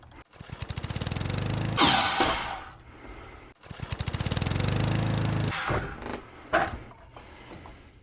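A miter saw making a 25-degree bevel cut through wood, heard twice: each time the motor whines up, the blade chews through the board with a loud rasping burst, then the motor spins down, close and free of talk.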